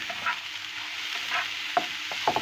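Onion and garlic sizzle steadily in a pan while a utensil scrapes and stirs, with a few sharper clinks toward the end.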